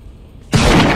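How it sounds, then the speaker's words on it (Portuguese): A gunshot in the GTA 5 video game, played on PS5 in a public online session: a loud sudden blast after a quiet half-second, followed by a dense sustained roar and rumble. "Nossa, que tiro, cara."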